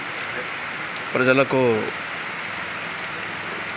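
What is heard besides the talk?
rain falling in the evening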